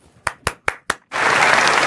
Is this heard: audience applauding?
yes